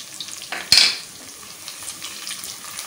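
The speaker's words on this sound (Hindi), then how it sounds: "इन चीज़ों को भूनूंगी बघार को," Garlic, curry leaves, cumin and mustard seeds fry in hot oil for a Bohra dal tempering, a soft steady sizzle with a sharp clatter of a utensil against the pan near the start.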